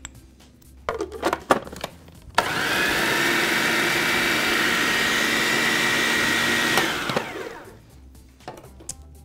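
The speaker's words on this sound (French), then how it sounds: "je mets tout dans le bol de mon robot culinaire, puis je vais brasser un petit peu" A food processor whirring through a mix of nuts for a breading, a loud, steady motor whine lasting about four seconds, framed by clatter and knocks of the bowl and lid before and after.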